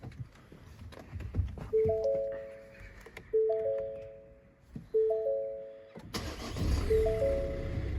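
A Ford Tourneo Courier 1.5 EcoBlue diesel is started cold. Repeated dashboard chimes sound first, then the engine catches near the end with a loud, steady, broadband rumble.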